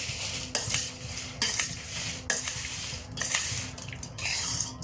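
Utensil scraping and stirring sugar into cooking food in a metal pot, sharp clinks and scrapes recurring every second or so, close and fairly loud with a soft sizzle beneath.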